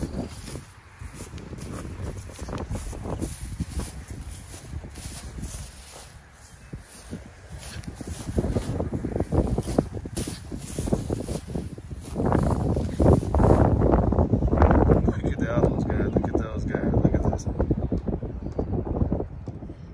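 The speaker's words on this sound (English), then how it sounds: "If the wind can stop blowing" Wind blows outdoors in a yard where a wooden privacy fence is being built, buffeting the microphone with rough, gusty rumble that grows stronger toward the end.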